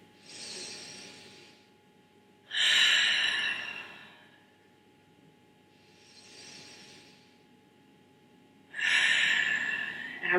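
Slow, deep breathing during a beginner full-body yoga stretch on a mat, with four long breaths in and out; the second and fourth are louder, sharper exhales, and the others are softer inhales, all close and alone.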